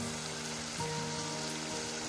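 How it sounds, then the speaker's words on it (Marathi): Masala paste for a Kolhapuri-style mutton curry fries in oil over a village wood-fired stove, a soft, continuous bubbling sizzle held at an even level throughout. "आता हे वाटण मी थोडस तेलामध्ये परतून घेते"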